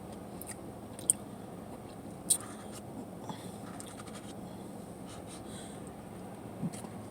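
Someone chews a Sour Patch Kids Blizzard up close. Soft, wet chewing runs throughout, with a couple of sharper bites or crunches standing out.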